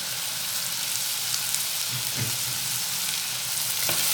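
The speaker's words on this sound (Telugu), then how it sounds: "ఇవన్నీ మరోసారి నూనెలో కలిసేంత వరకు చక్కగా కలుపుకోవాలి." Tomato and vegetables frying in oil for a vegetable pulao, a dense continuous sizzle with a few soft stirring scrapes, close and steady throughout with no speech.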